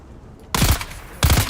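Gunfire and grenade blasts from a Dune Awakening firefight: two loud, sharp bursts of shots and explosions, separated by a brief lull over a low background rumble.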